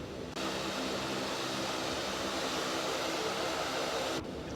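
Quest Kodiak single-engine turboprop in the X-Plane 11 flight simulator, a steady broadband engine roar that starts abruptly, holds at an even level for about four seconds and then stops.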